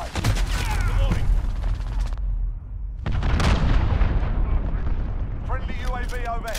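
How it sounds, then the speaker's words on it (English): Cruise missile strike in Call of Duty: Modern Warfare, with dense booming explosion rumble filling the clip, a brief lull around two seconds, then another heavy blast and continued roar under in-game radio voices. "Allied cruise missile away"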